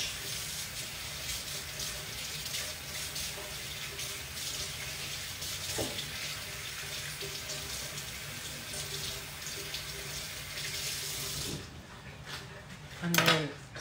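Water runs steadily from a kitchen tap while a knife is washed under it, giving a continuous close hiss and splash with a brief knock partway through, before the flow stops and a short clatter follows.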